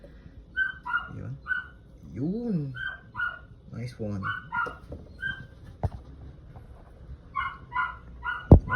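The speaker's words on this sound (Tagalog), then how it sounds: "Sorry guys sa ingay ng dog" A dog barks in short bursts and whimpers nearby while a person talks, its yips coming irregularly between the words.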